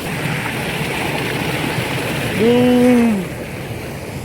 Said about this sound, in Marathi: हे बघा इकडून खाली पडते पाणी.